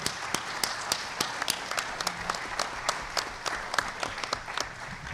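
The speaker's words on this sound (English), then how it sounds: "Let's have a big round of applause for the candidates" An audience at a 2022 Delaware County candidate forum applauds the candidates, a steady patter of many overlapping claps that carries on for several seconds at moderate loudness.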